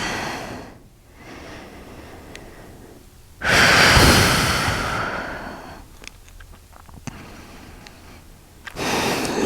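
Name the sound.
breathing during a yoga stretch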